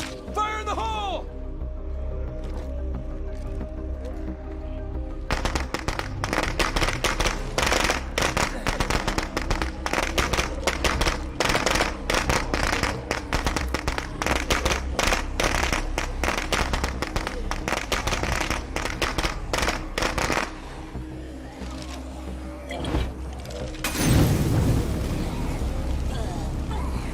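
An explosive detonates in the zombie-survival game State of Decay 2: a loud, rumbling blast with a burst of debris-like crackle late on, over a constant dense game soundscape with a player talking.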